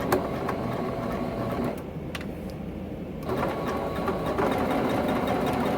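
A sewing machine stitching quilt fabric for a Dresden Plate quilt block runs with a steady, loud mechanical whir close by. It stops briefly partway through, then starts again.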